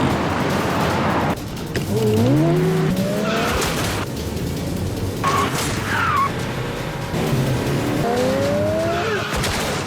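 In an action-film car chase, cars roar past with repeated tire squeals and skids, engines revving frantically, loud and close with some clattering bursts.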